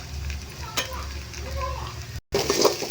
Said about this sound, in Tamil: மஞ்சத்தூள் போட்டு நல்லா கிண்டி விட்டுக்கலாம்